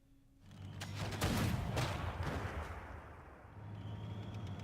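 A tank attacking a city in Civilization 6 Gathering Storm, a single booming strike that swells into a rumbling blast with crackling debris, then fades to a low hum.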